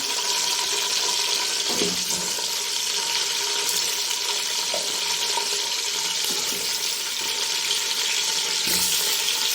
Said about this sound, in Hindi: तकरीबन इसको मैं 4 से 5 मिनट के लिए जो वो फ्राई करूँगी। खाली घी में इस तरह।